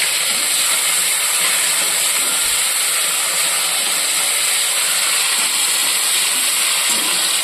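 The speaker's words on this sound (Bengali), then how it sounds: "টমেটো আর লঙ্কাটা খুব ভালো করে ভেজে নিতে হবে" Chopped tomato and green chilli frying in a hot pan of melted sugar, giving a steady, loud hiss and sizzle that runs unbroken throughout, close up and alone.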